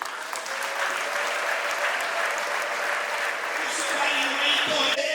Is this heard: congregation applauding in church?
yes